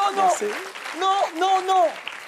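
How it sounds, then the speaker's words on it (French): A studio audience on a French-language talk show applauds a school class, the clapping sitting low beneath a prominent voice that talks loudly over most of the short stretch. "je vous demande d'applaudir la meilleure classe du monde, s'il vous plaît."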